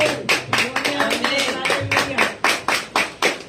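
A church congregation applauding in rhythmic bursts of clapping, loud and close, with a preacher's voice speaking over the first part.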